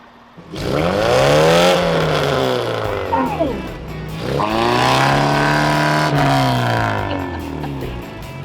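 A Ford truck engine drones and revs as the truck is driven and turned around on a flooded road. The engine pitch swells and falls over several seconds, loud and close, and no one speaks.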